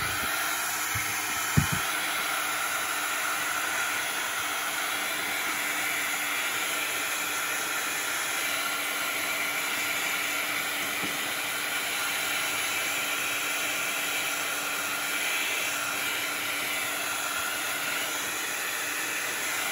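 A hair dryer blows steadily to dry glued paper on a handmade envelope journal, a constant close whooshing hiss that runs unbroken for the whole stretch, with one brief knock near the start.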